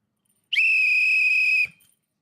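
A referee's whistle sounds once, a loud, clear, steady blast of about a second that starts sharply and cuts off cleanly, with silence before and after.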